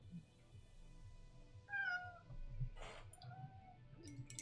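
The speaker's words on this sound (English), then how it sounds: "Yes, that is the cat" A cat meows indoors, a few short rising cries in quick succession, fairly quiet over a low room hum with small handling noises, and no one speaking.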